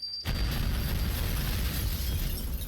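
Bombs blast a window open in a video game, setting off a sudden loud explosion followed by a sustained roaring, crackling rumble of debris that fills the rest of the moment.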